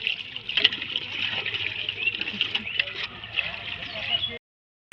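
Water pours and trickles steadily into a container with a bright, hissing splash, close by, continuing for several seconds before stopping abruptly.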